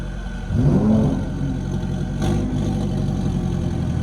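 A Fiat car engine idles with a low rumble, rising briefly in a short rev before settling back to a steady drone.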